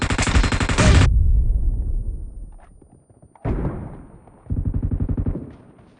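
Automatic gunfire in a team deathmatch game, with a loud rapid burst, then a decaying tail and near-quiet, followed by two more sharp, evenly rattling bursts.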